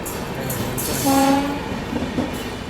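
The CSMT Nagpur Duronto Express crossing on the line, its horn sounding one sustained blast over a continuous rumble of rolling wagons, with a fainter second honk after.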